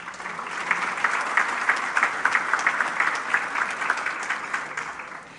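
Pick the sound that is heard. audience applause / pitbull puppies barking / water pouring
audience applause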